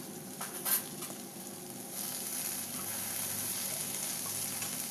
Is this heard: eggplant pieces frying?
yes